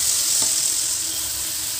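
Tomato pickle with tamarind sautéing in a pan, with a continuous close sizzle and one brief soft pop, no talk.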